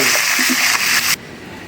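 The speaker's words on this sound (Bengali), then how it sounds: "মাংস ভাজার পর কড়াইটা আবার ধুয়ে নিছি" Water gushes loudly into a wok being rinsed after frying meat, a close, rushing splash that runs about a second before cutting off abruptly.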